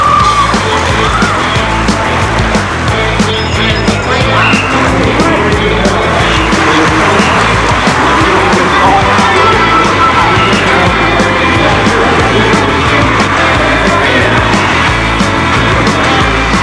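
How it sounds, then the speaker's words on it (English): Riders in the 1989 San Luis Obispo Criterium, a bicycle street race, rush past in a loud, continuous wash of wheel and road noise, with a faint crowd murmur beneath. "One of these is the annual San Luis Obispo Criterium."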